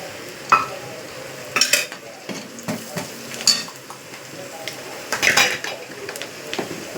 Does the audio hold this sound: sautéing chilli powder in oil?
yes